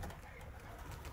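A soft, low pigeon cooing murmurs briefly against quiet outdoor background noise.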